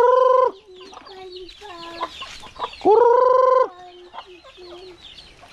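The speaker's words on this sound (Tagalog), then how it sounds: "Chicken. Chicken. Oh, dami chicken." Chickens on a small farm cluck and squawk up close, with two long, loud, sustained calls standing out among shorter repeated clucks and scattered peeps.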